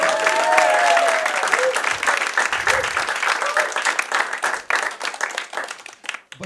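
A crowd at a Camden Fringe show applauds, dense clapping that fills the space, fairly loud at first and thinning slightly toward the end.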